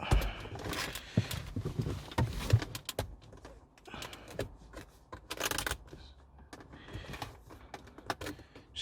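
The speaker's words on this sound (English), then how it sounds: "just pry on the silver trim piece here. Just literally pry around." A silver interior trim piece is pried loose on a Mercedes C-Class W205, a series of quiet irregular clicks, snaps and plastic scrapes close by.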